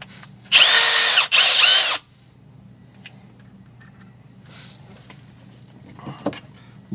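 A power drill with a Phillips bit drives screws into shifter plates on a Honda Pioneer 1000: two loud, close whirring bursts of about a second each, separated by a short gap, then quiet handling noises.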